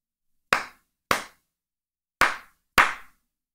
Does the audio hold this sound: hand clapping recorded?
yes